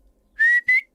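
A man whistles at someone on the street, two sharp, loud, rising wolf-whistle notes in quick succession, close and clear with no talk around them.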